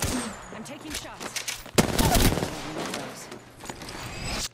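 Gunfire striking the player in Apex Legends, scattered sharp shots and impacts with a dense burst in the middle amid game effects, loud and close, with intermittent voice over the action.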